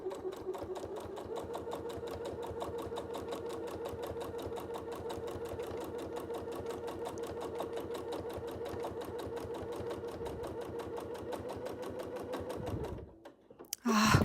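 Sewing machine quilting slowly along a stitch line, a steady rapid mechanical whir and needle clatter running close and continuous for about thirteen seconds, then stopping with a few handling knocks.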